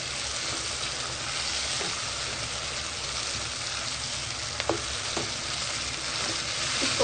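Tomato paste being stirred into fried chicken in a pan for achar gosht, a steady close sizzle of frying with the occasional scrape of the spoon against the pan, and no one speaking.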